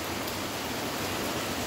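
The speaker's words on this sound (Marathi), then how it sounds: "हा बघा आमच्या कोकणातला मस्त मुसळधार पाऊस" Heavy Konkan monsoon rain pours down in a dense, even hiss with no pauses, steady and fairly loud across the brief moment, with no voices.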